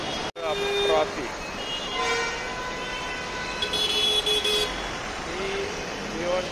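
Busy street traffic in Bhiwandi, with several car horns tooting and honking over a constant engine and road rumble, close and fairly loud, and voices talking in the background.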